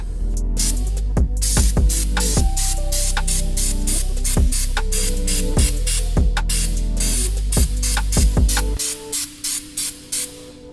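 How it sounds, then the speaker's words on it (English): An aerosol can of rubberized undercoating hisses in repeated close spray bursts onto a patched fuel tank, with rattling, steady humming underneath, ending in several short separate puffs. "we're just going to spray some rubberized undercoating on there"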